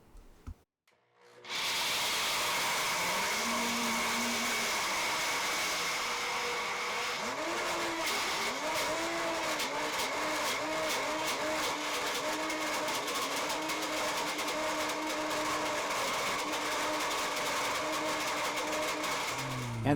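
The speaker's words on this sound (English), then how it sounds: "I'm blending on high speed." A blender running on high speed churns almonds and a little coconut oil into almond butter, with a loud, steady motor whine that starts suddenly and holds with rising and falling pitch.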